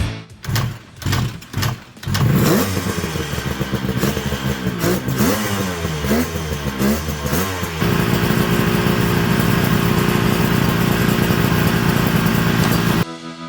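A 1973 Kawasaki S2 two-stroke triple motorcycle is cranked with a few sputtering attempts, then catches and runs loud and close, revving up and down in uneven bursts before settling into a steady, crackling idle.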